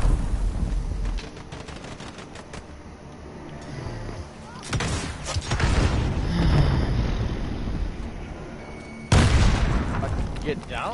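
Grenade blast and surrounding gunfire in Call of Duty: Modern Warfare, with a broadband explosion burst near the middle and another sharp blast later, over continuous battle noise while a player talks.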